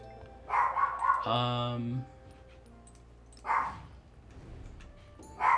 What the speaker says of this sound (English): And have my dog bark at us.